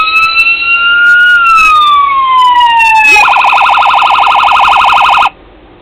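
Siren on a diecast 2016 Dodge Charger model in Memphis Police livery, a loud electronic wail sliding downward, then switching to a fast, harsh yelp that cuts off abruptly.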